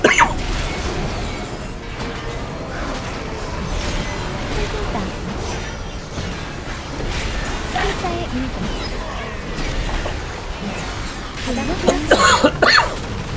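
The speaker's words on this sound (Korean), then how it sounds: "갑자기 기침 나오네" Repeated coughing, with a burst of several coughs near the end, from a person who says it is rhinitis, heard over busy game audio and ongoing talk during a dungeon run.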